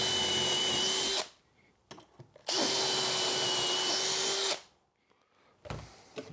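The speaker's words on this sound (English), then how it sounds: "we're going to drill straight down through the door" Two long bursts of a power drill whirring at steady speed as it drills down through a door, separated by quiet pauses with small clicks and knocks.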